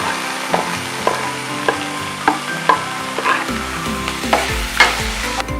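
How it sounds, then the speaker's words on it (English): Chopped onions fry in a pan with spices, a continuous close sizzle broken by regular scraping clicks of a spoon stirring roughly every half second, with no talking. "I'm going to be adding the onions."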